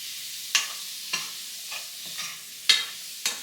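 Shrimp cooking in a pan for tacos, a soft steady sizzle broken by a few scraping stirs at close range.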